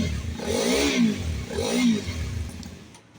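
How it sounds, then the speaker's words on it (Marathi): A Hero Xpulse 210 motorcycle, 2026 model, revs twice through its silencer exhaust, two close, loud throttle blips that rise and fall before the engine settles toward idle. "आपलं सायलेन्सर दाखवतो तुम्हाला कसा आवाज आहे गाडीचा"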